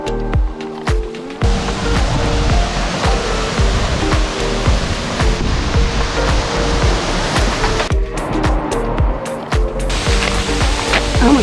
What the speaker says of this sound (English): Just around this bend is where the giant waterfall is.